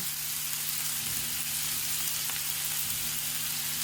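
Spicy ground beef and vegetables sizzle in a pan with a steady, close crackling hiss and a few faint stirring scrapes, no talking.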